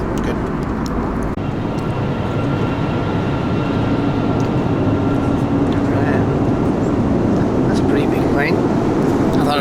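Steady, loud airliner cabin drone from the engines on a flight from Singapore to India, a constant broadband roar filling the whole clip, with faint voices now and then underneath.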